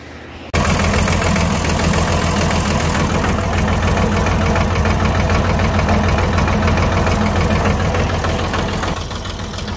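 A tractor engine, just fitted with a repaired alternator, starts after a short quiet lead-in and then runs steadily at a loud, close idle with a rough, knocking rhythm for the rest of the clip.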